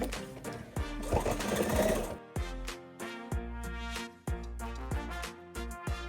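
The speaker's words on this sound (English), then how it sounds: "I'm just gonna use a straight stitch and go all the way around this edge" A sewing machine running a straight stitch around the edge of a fabric donut-shaped dog toy, in steady rhythmic runs broken by short pauses, close and clear with no talking.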